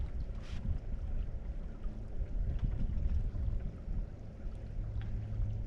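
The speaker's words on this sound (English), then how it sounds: "basically just sailing at a decent speed with very little wind right now" A sailboat moves through tidal current in very light wind near Green Point Rapids on the way to Johnstone Strait. Water rushes and burbles steadily with soft wind noise, fairly faint and continuous.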